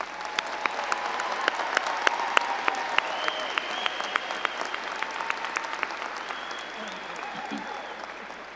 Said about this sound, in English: Can we give another round of applause to our speakers, performers